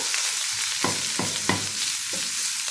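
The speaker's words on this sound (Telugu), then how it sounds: "కొంచెం కలర్ వచ్చేంత వరకు వేయించుకుంటాము" Chopped onions fry in a pan under a constant hiss, with three or four distinct spatula stirs scraping through the sizzle.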